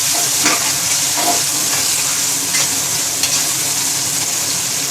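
Green chillies and spices sizzle loudly in a frying pan for chana pulao while being stirred, a steady close hiss with scraping stir strokes throughout.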